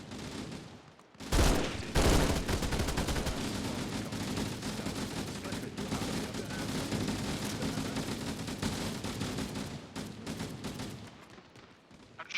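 Sustained gunfire in the video game Halo, a loud dense volley of rapid shots that erupts after a brief quiet start and continues steadily close by, thinning out toward the end.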